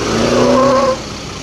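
An ALS 297 executive-class jet bus pulls into a depot in Pekanbaru, with a loud tonal brake or air squeal for about a second before it drops away to a lower idling rumble.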